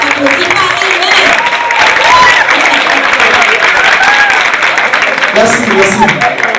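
Enthusiastic crowd applause and cheering for a contestant at a women's slam poetry final, loud and sustained with shouting voices throughout.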